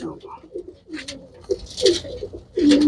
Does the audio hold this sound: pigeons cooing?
yes